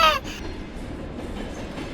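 Choo-Choo Charles, the monster train in a GTA5 horror tunnel scene, rumbles along with a continuous loud rolling clatter after a brief sharp opening burst.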